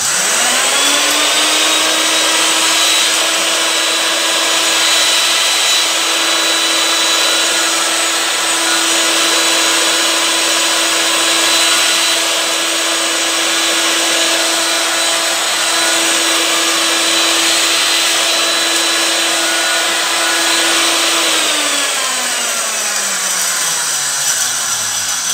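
A blender chops herbs with a steady, loud motor whine that stays constant for over twenty seconds, then drops in pitch as it winds down near the end.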